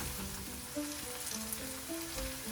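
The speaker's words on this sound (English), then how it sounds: "I'm just going to let it cook for a few minutes till the onions brown a little bit more" Onions, lemongrass and kaffir lime leaves frying in a pan for a vegan tom yum sauce with tofu and vegetables, a steady close sizzle and crackle running throughout with no talking.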